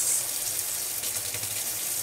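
Cold tap water runs steadily from a kitchen faucet into a sink, a constant broadband gush that stays even and close for about two seconds with no talking.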